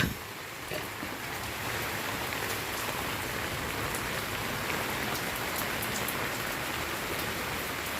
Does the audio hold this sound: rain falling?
yes